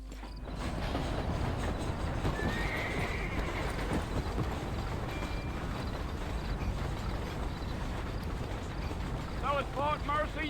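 A horse in Red Dead Redemption gallops with a steady, rhythmic clip-clop of hooves, mid-distance and continuous, under game ambience. A short whinny rises near the end, and a player talks over it at times.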